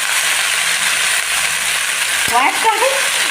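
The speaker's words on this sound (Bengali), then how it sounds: "শাকটা অল্প অল্প করে দিয়ে আমার নেড়ে নেবে" Pea greens for matar sag sizzle steadily in a hot frying pan, with a soft scrape of stirring and a short clatter of utensil against pan near the end.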